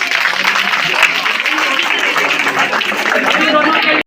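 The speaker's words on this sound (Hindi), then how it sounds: "इन लड़कों के लिए एक बार ताली बजा।" Steady, dense applause from a seminar audience for a group of boys at a talk on gender inequality, continuous and fairly loud until it cuts off.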